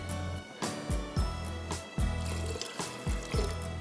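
Water poured into dal simmering in a cooking pot, a series of uneven splashing glugs and trickles over about four seconds, close and fairly loud with no talking.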